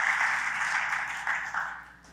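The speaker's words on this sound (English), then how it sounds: "Give her a round of applause." An audience at a school-choice talk gives a short round of applause, a continuous patter of many hands at moderate distance that fades toward the end.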